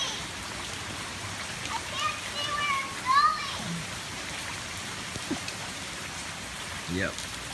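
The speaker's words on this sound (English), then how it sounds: "It's starting to rain harder." Rain falls harder on outdoor surfaces in a steady hiss of drops. A person speaks briefly and a few louder splashes and knocks cut through the patter.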